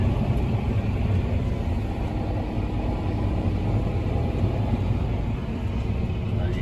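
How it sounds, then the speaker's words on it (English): A farm vehicle with lowered rear tyre pressure drives onto a field, a steady heavy low engine rumble heard from inside the cab, constant and unbroken throughout. "I'll drive a bit further onto the field"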